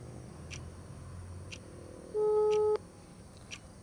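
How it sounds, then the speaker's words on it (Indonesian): A phone call rings on the line with a short, single steady tone burst. Faint repeated beeps come before it, and no one talks. "Berdering."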